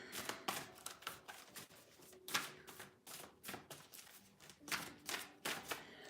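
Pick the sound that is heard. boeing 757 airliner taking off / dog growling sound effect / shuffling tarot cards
shuffling tarot cards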